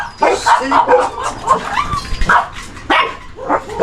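A dog barks and yips in short bursts close by while a person talks over it.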